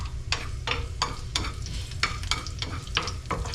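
Ground meat (giniling) being stirred and fried in a pan at home, with a steady low sizzle broken by repeated scraping strokes of the spoon at an uneven rhythm, close and moderately loud, with no talking.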